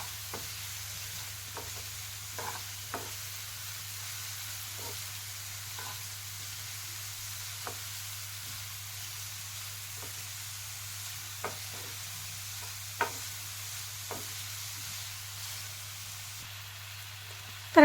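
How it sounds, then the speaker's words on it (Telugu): Chopped onions fry in hot oil in a pan for a potato curry, a steady close sizzle with occasional soft scrapes and knocks of stirring, no talk over it. "ఆనియన్స్ అనేది బాగా ఫ్రై అవ్వాలి"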